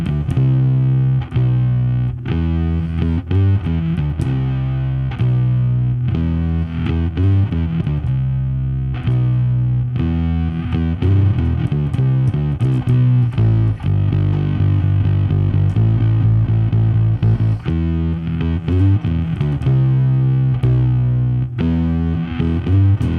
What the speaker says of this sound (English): let's give it some distortion